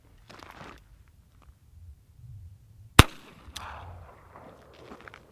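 A single sharp, close report from a French MLE 1892 8mm revolver fired one-handed, breaking through quiet background rustling and followed by brief handling noise.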